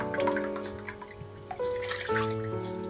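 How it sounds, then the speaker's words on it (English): Rose water poured from a cup into a pan while making badam pak, a close trickling and dripping stream with shifting gurgling tones as the liquid falls and splashes. "Now we add 2 cups full of rose water."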